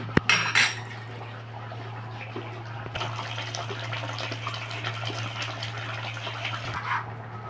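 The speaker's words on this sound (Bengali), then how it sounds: "ঢাকাটা আমি খুলছি।" Metal lid lifted off a pot of boiling pointed gourd, a sharp clank of metal at the start, then a bubbling, hissing simmer over a steady low hum.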